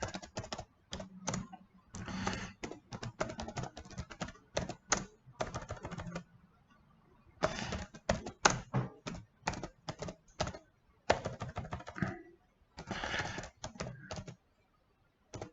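Fingers type on a computer keyboard in quick bursts of crisp clicks, separated by short pauses, close and fairly quiet.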